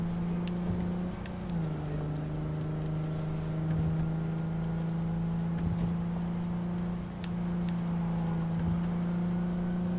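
Car driving in the Cyberpunk 2077 video game, a steady low engine drone with a constant tone, moderately quiet, and brief dips in pitch near the start and again later on.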